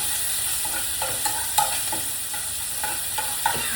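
Dried red chillies, mustard seeds and chopped ingredients fry in hot oil for a Kerala moru curry, a steady sizzle broken by repeated spoon-stirring scrapes, close and alone.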